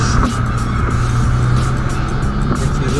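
A Honda Accord Sport Special Edition climbing a snowy hill, its engine droning steadily under load with a continuous rumble of tires on snow, loud and close from start to finish.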